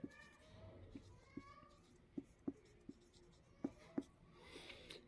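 Marker or chalk tapping and scratching on a board as words are written, a series of sharp close taps at uneven intervals with light scraping between them.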